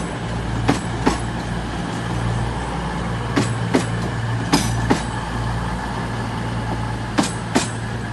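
A four-carriage CrossCountry Class 221 train from Birmingham New Street at Exeter St David's station gives a steady, loud rumble, with sharp periodic clicks of wheels crossing rail joints and no talk.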